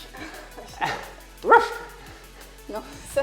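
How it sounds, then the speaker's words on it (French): A poodle barks in a few short yaps and yips scattered across the moment, with a louder bark in the middle, while someone talks in French over it. "Non, je déconne. c'était le caniche."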